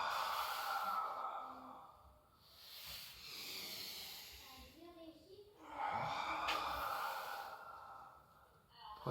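A person exhales long and audibly through the mouth during a stretching exercise, rolling the spine. Breathy hisses and sighs come in slow waves with short pauses between them, close and clear.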